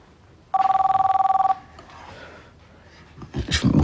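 A telephone rings once with a clear electronic trill lasting about a second, fairly loud and alone in a quiet room, followed by soft rustling and a short burst of handling noise.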